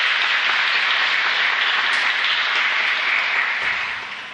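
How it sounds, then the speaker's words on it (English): A hall audience at a Youth Day event applauds the Deputy Head of Gazprom with loud, sustained clapping that stays even before fading away near the end. "a round of applause for the Deputy Head of Gazprom"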